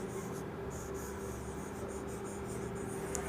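Pen or marker strokes while working out a class 10 maths problem on real numbers, a continuous soft scratching over a steady background hum.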